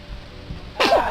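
A baby's single short sneeze erupts suddenly after a quiet moment, sharp and close.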